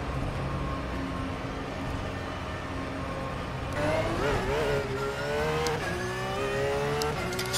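A Porsche 911 GT3 R race car idles and then revs up in rFactor 2, the engine note climbing and wavering as it pulls away, loud and close throughout.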